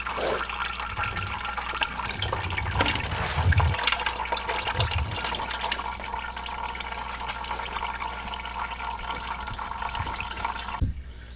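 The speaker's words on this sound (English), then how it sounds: "while the oil is dripping out" Engine oil drains from the bottom pan of a Ski-Doo snowmobile with a 1200 4-TEC engine, a steady trickling, splashing pour with a few heavier gurgles. It runs continuously and close by, with no talk, and stops abruptly near the end.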